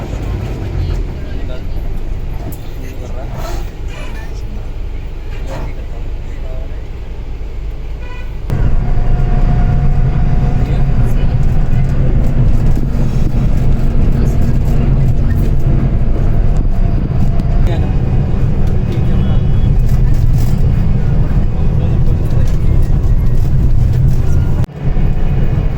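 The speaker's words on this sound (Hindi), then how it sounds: "ट्रैफिक जाम हो रखा है, धीरे धीरे बस बढ़ रही है आगे" A bus inches forward through a heavy traffic jam on the road near Murthal. A constant roar of traffic and engines carries occasional horn toots, and a voice talks over the noise. Partway through, the rumble grows louder and denser.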